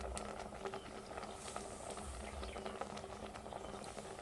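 A pot of broth simmers with chillies added, giving a steady, low bubbling and gentle patter throughout, faint and unbroken.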